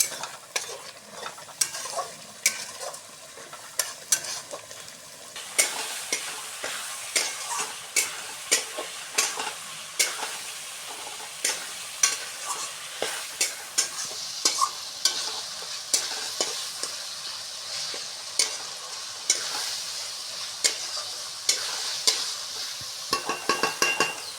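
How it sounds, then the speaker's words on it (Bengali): Spice masala for a Ganges fish kaliya fries and sizzles in oil, with a steady crackling hiss and frequent sharp scrapes of a spatula stirring the pan, close and alone throughout. "আর একটু কষলে মশলাটা প্রায় কষানো হয়ে গেছে অনেকটাই তেল ছাড়া শুরু হয়ে গেছে"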